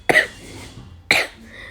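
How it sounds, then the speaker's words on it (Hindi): Two separate coughs from a woman with a bad cold, each a sharp close burst about a second apart, loud and alone with no talking. "मुझे बहुत ज़्यादा खांसी हो रही है तो मैं बोल भी नहीं पा रही हूँ"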